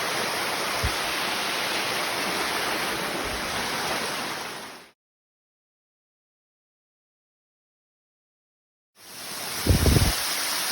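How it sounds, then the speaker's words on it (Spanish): A waterfall at Laguna Brava roars as a steady, loud broadband wash of falling water, broken by a few seconds of complete silence partway through. "hemos llegado a la primera cascada"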